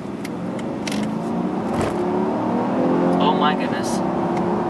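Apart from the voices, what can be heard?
Mercedes S550 accelerating under turbo boost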